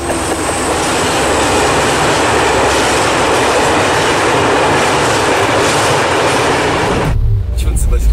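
Passenger train on the Moscow–Vladivostok route rolling along, a loud, steady rumble with rhythmic clickety-clack of wheels over rail joints, heard from inside a carriage until it cuts off near the end.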